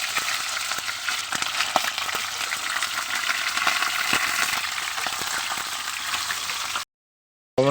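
Loud, continuous sizzling and crackling of freshly speared fish frying in hot oil close by, with frequent pops, cutting off abruptly near the end.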